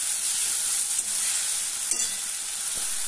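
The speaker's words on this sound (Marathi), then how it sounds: "एक मिनिट भर असं परतून द्यायचं." Fenugreek leaves stir-fried in a pan give a steady, close sizzle with soft scraping from stirring, continuing evenly throughout with no talking.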